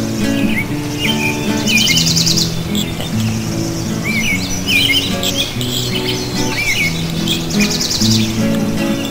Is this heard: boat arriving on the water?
no